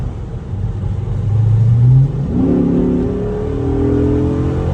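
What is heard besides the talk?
2007 Chrysler 300C SRT8 engine accelerating and shifting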